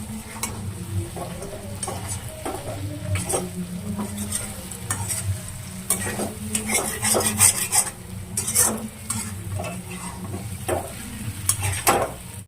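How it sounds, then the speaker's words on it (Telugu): Brinjal (eggplant) fry stirred in a pan, a steady sizzle broken by repeated scraping and clinking strokes of a spatula against the metal, close and fairly loud with no voices. "వంకాయలు చితక్కోకుండా మంచిగా సైడ్ నుంచి మంచిగా కలపండి."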